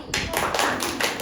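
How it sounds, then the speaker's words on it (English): A classroom audience applauds a classmate after her presentation, a short burst of steady, fairly loud clapping from a group. "give applause for Mbak Naili"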